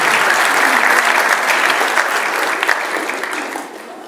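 At a municipal event on early detection, an audience applauds a DIF director, a loud, dense, continuous burst of clapping that stays strong for several seconds, then gradually thins and fades.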